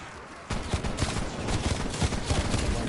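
Repeated shotgun blasts from a Gallo SA12 against zombies in Call of Duty's Die Machine mode, a rapid string of punchy booms after a brief quieter start, layered with chaotic combat noise.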